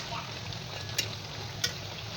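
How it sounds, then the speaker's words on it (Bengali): Banana and flour pitha cakes fry in a pan with a steady close sizzle throughout, broken by two brief sharp crackles. "এখন আরেকটু ভালোভাবে ভাজা করে আমি উঠিয়ে নেবো পিঠাগুলো।"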